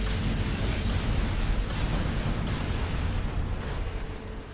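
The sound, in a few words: shock grenade explosion in a PS3 video game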